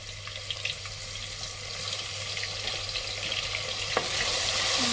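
Ginger and garlic fry in a pan for a fish curry with a steady, close sizzle and crackle, a few light stirring clicks and a brief scrape near the end.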